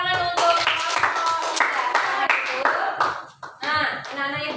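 Pupils in a primary school classroom clap together for a few seconds, with children's voices chattering and calling out over the clapping.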